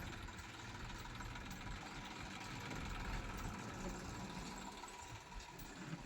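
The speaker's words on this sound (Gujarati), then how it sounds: "ટ્રેક્ટર આવી ગયું પાલાનું ટ્રેક્ટર છે" A steady, low tractor engine rumble idles continuously at moderate distance, with no other prominent sounds.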